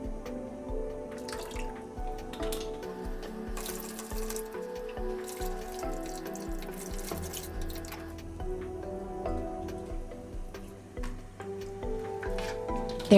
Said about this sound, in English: Wash the leaves and roots of spinach with plenty of water.